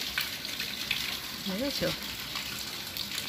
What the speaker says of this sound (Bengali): এখানে জল পড়ছে আমাদের ছাদের জল